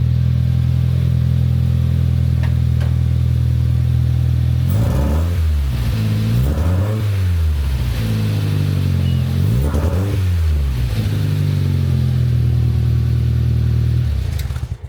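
Audi/VW 1.8T turbo engine with a new exhaust, idling with a steady, loud rumble, then blipped several times: two quick revs in the middle and another a few seconds later, each rising and falling back to idle.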